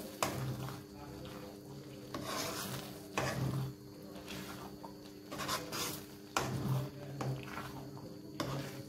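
Ghee being stirred into dal palak khichdi in a pot, a soft scraping with repeated spoon strokes every second or so against a faint background sizzle, close and moderate.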